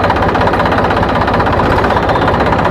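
Massey Ferguson tractor engine running steadily with the PTO engaged at 540, a loud, close, continuous mechanical drone with a slight rhythmic throb and no talk over it.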